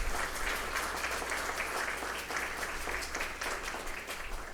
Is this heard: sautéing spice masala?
no